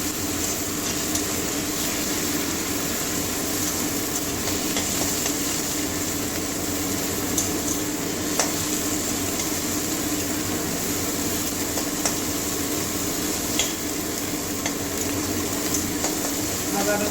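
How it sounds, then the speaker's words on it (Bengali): Ginger garlic paste frying in a pan, a steady crackling sizzle with occasional stirring scrapes, joined by a low continuous hum. "এবার আদা রসুনের পেস্টটা দিয়ে দিচ্ছি এটাও কাঁচা গন্ধ যাওয়ার পর্যন্ত ভেজে নেবো"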